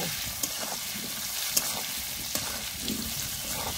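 Potatoes fry with salt and turmeric in a pan for aloo matar paneer, giving a constant close hiss of oil with occasional soft stirring knocks.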